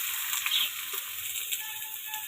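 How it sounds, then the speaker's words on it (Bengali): Vegetables frying in hot oil in a home kitchen, a continuous bright sizzle and crackle with small pops, close and steady throughout. "সব সবজিগুলো এবার ভেজে নেব"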